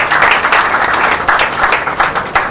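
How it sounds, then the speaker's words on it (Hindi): Loud, dense applause from an award ceremony audience honoring film figures, continuous clapping filling the whole moment with slight swells, no speech over it. "मैं चाहूंगा उनके लिए भी जोरदार तालियां हो।"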